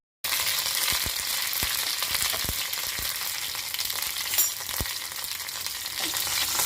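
Mustard seeds and curry leaves sizzling in hot coconut oil in a pan, a loud continuous hiss broken by sharp pops and crackles as the seeds spit, with no voices.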